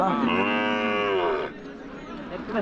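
A native-breed calf gives a single long, loud moo at a village cattle market in Tamil Nadu, followed by faint crowd and yard noise.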